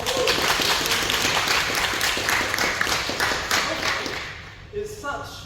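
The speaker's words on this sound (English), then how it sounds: "can we get a round of applause for Augene?" An audience at a club meeting applauds a speaker, with dense, steady clapping from many hands that fades toward the end as a voice begins speaking.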